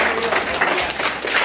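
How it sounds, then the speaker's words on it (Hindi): Applause from an audience at an insurance sales training seminar, a dense burst of clapping that holds steady through the short moment. "जोरदार तालियां एक बार फिर से"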